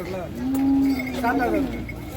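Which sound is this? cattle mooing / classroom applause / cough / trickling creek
cattle mooing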